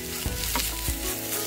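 Ground spices sizzling in hot oil in a pan for prawn masala, a steady close frying hiss with a brief stir, no talking.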